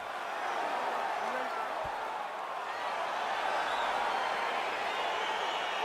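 A dense, steady roar of an excited arena crowd in EA Sports UFC 4 as a fight begins, a continuous wash of cheering at an even level.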